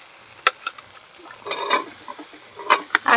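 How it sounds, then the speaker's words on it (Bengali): Boiled peas tip into hot spiced mutton fat for ghugni, giving scattered crackles and a short burst of sizzling, with a few sharp pops toward the end. "মটরগুলো ঢেলে দিলাম"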